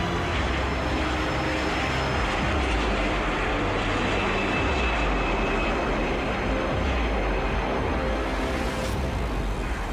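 Air France 447, a long-haul Rio-Paris airliner, taking off at night, producing a loud, steady, broadband jet-engine roar that holds constant and close throughout with no voices.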